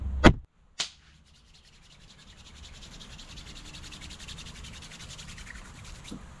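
Lottery scratch-off tickets being scratched, a steady close-up rubbing and scraping that runs continuously after a couple of sharp taps at the start, with no talking.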